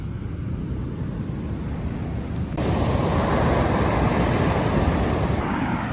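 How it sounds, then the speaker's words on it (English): Surf crashes onto a beach at night as a continuous, loud roar with heavy wind noise buffeting the microphone, swelling noticeably louder partway through and staying strong to the end. "We're right next to the ocean. You can hear it crashing outside."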